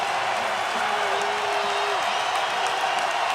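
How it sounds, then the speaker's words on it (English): Big football crowd swelling at Glass Bowl Stadium during a Tulsa at Toledo college game on third down, a dense, steady roar of voices filling the space under a commentator's talk. "crowd coming up"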